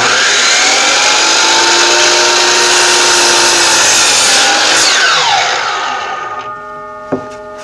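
Power saw cutting through a wooden board for a DIY ladder, a loud steady whining buzz that holds for several seconds, then winds down as the blade slows, ending with a sharp knock.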